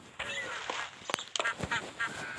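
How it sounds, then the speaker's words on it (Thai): Ducks quack in short, nasal bursts amid outdoor chatter and background noise at a zoo, several calls close together. "อันนี้มันไม่ใช่นกนะเนี่ยมันคือเป็ด"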